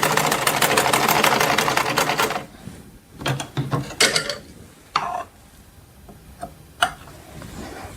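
A sewing machine runs a straight stitch on fabric for a doll's outfit, a fast steady mechanical chatter for about two seconds, then stops, followed by scattered clicks and handling noises.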